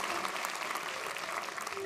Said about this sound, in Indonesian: Telat tepuk tangannya